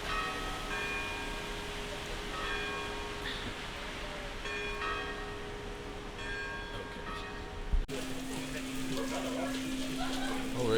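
Church bells ring out in St Augustine, Florida, a steady series of tolls over rain falling on a street, before the sound shifts indoors to the murmur of a pub.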